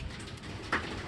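A racing pigeon gives one brief, soft coo at middle distance against a quiet outdoor background.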